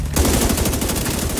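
Rapid burst of automatic gunfire from a drone in the video game The Division 2, dense continuous rattling shots, loud and close.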